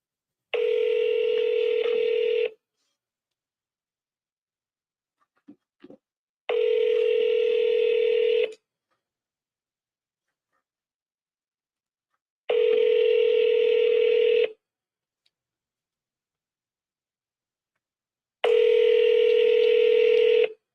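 A telephone line during cold calling sounds four steady two-second tone bursts separated by long silent gaps, with a couple of brief dialing blips in between, clean and loud.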